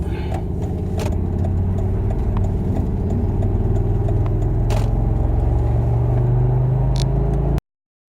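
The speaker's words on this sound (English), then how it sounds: "Car's running like garbage. I think it's down to 4 cylinders from 5." A misfiring Volvo XC90 T5, its five-cylinder engine running on only four, idles with a steady, rough, uneven low drone throughout, punctuated by a few faint clicks.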